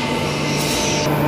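Transperth EMU electric train at Subiaco station during the Royal Show, a continuous loud rolling rumble with a faint high whine rising partway through.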